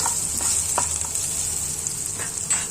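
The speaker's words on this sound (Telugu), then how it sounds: "సిమ్ము మీద పెట్టి వేయించండి కొంచెం" Green chillies and seasoning frying on low heat in a pan for a taro stem and moong dal curry, a steady close sizzle with a high hiss throughout and a few soft stirring scrapes.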